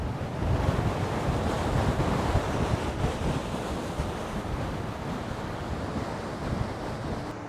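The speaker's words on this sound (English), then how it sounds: "The ocean is quite impressive when it blows like this." Heavy ocean waves churn and crash along the Swedish west coast under strong wind, a dense continuous roar of surf with wind rumble on the microphone, loud at first and easing slightly, no talking.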